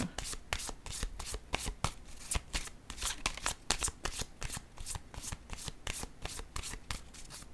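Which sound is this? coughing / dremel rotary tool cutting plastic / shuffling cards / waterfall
shuffling cards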